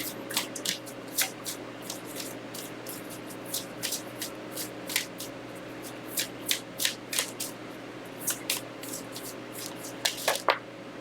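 Fairy Lenormand cards are shuffled by hand in a run of quick riffling bursts, each a short papery flutter, close and fairly soft over a faint steady background hum, with no voices.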